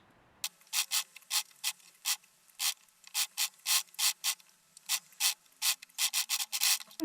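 A sewing machine stitches fabric for a maxi dress in short bursts, each a quick mechanical clatter, with about twenty runs separated by brief pauses and a soft low motor hum beneath.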